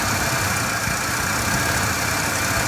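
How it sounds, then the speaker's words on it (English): A 1981–1983 Chrysler Imperial with an electronic fuel-injected engine idling, a steady, even rumble heard up close with no voices over it. "let me go ahead and show you it running. And here we are. It runs fantastic."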